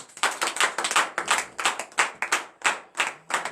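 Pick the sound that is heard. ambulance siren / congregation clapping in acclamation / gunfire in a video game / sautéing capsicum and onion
congregation clapping in acclamation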